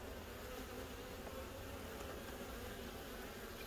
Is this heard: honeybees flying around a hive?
yes